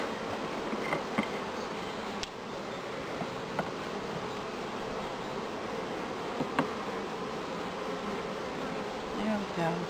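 Honeybees fanning at the entrance of a top bar hive in spring make a dense, steady buzzing hum close by, with occasional individual bees zipping past the microphone.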